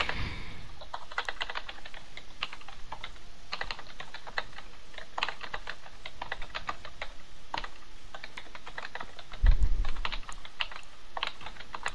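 A computer keyboard is typed on in quick, irregular bursts of clicky keystrokes, close and steady, with a louder bump near the end and no talking.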